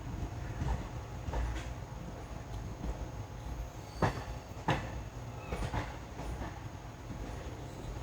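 The 16512 Kannur Bengaluru Express runs on a diverted route over a double-line section, its wheels rumbling steadily on the rails with a few sharp clicks at joints, heard from on board with no talking.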